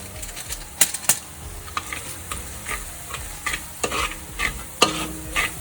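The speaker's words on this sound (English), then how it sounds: "Just stir that through" Seasoning powder stirred into hot frying oil for vegan Maggi goreng, with a utensil clacking and scraping irregularly against the pan over a soft, steady sizzle.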